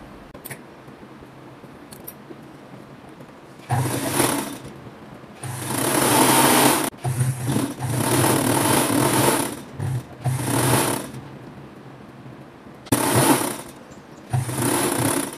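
Sewing machine stitching the side seams of a flared dress, loud close bursts of rapid whirring needle runs separated by short quiet pauses, no speech.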